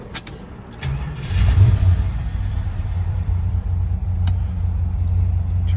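A 1970 Dodge Coronet 440 engine cranks over and catches, then settles into a deep, loud, steady rumbling idle, heard close with no speech.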